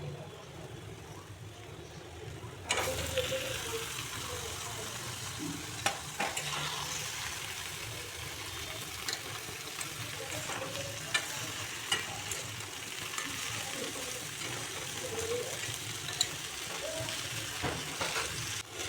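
Flat beans and pre-boiled potatoes frying in a pan, a steady low sizzle with scattered clinks and scrapes of stirring, close up, with faint background sounds and no clear talk.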